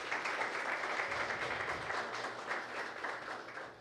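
Audience applause at a consumer defense commission session in Angra dos Reis, greeting an attorney joining the panel; a fairly faint, steady wash of many hands clapping that continues evenly throughout.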